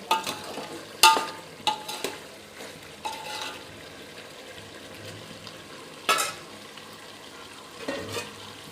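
Chicken curry cooking in a pan, giving a low steady simmer and faint sizzle with a few sharp stirring clinks and scrapes scattered throughout, no voices.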